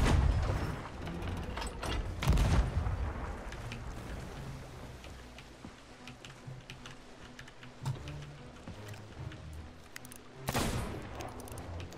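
Shots fired at a megalodon in the video game Sea of Thieves: two heavy, booming blasts about eight seconds apart over a continuous churn of sea and ship noise with scattered smaller clanks.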